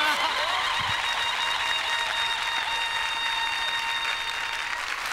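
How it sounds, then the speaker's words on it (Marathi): Enthusiastic audience applause at a Marathi stage show honouring Ankush, a dense steady roar of many hands clapping that holds at full strength for the whole stretch, with a faint cheer or two above it. "अंकुश सरांसाठी जोरदार टाळ्या"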